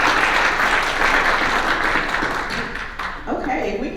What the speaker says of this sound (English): So I'm just gonna give a round of applause to Dr.